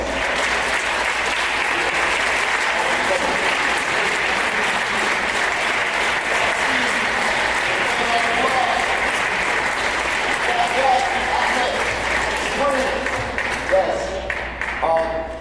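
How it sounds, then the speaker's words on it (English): A crowd applauds returning citizens at an event with a long, even round of dense clapping that stays loud before thinning near the end, with a few voices underneath. "we can give them a round of applause"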